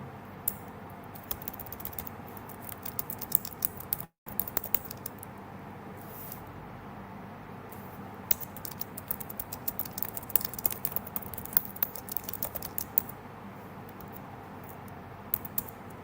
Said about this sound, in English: I'm going to type the prompt in